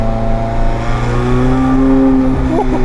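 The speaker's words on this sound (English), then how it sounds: "McLaren says that the sound of an exhaust is a little bit like the voice of a person" McLaren 720S supercar exhaust, a loud steady engine drone with rising harmonic tones as it revs, close and continuous with no talk.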